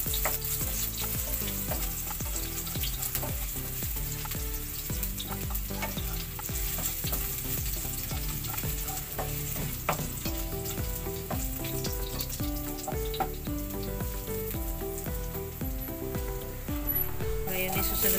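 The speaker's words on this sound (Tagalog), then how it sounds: "ngayon igigisa ko na itong bawang." Garlic sautés in hot oil in a heated pan, giving a steady, close sizzle beneath background music that plays the whole time.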